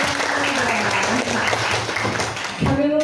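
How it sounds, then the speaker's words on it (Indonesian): Audience applause for a junior high school student at a youth ambassador event in Bengkulu, a dense, steady crowd wash lasting the whole moment, with voices talking over it near the end. "Tepuk tangan dong."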